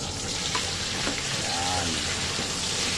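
Chopped onion sizzles steadily in a hot pan while it is sautéed as the base for a lapis fish-head soup, a continuous close frying hiss with a brief voice speaking partway through.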